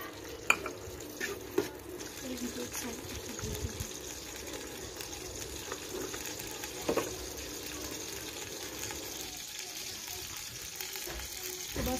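Onions for biryani fry and are stirred in a pot, a low steady sizzle with occasional clinks and scrapes of a spoon, fairly faint, with brief speech at moments.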